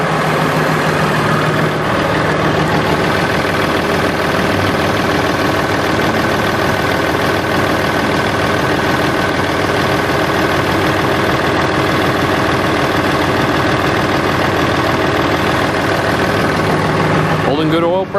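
A Massey 2607H tractor engine idles steadily while warming up after an oil change, a loud, continuous low rumble with a faint knocking pulse that runs unbroken for the whole stretch.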